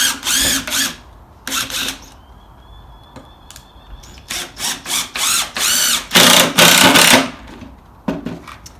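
A power drill drives screws into a manual machine trainer build in repeated short, loud bursts of whirring, close by, separated by brief pauses and a faint high whine.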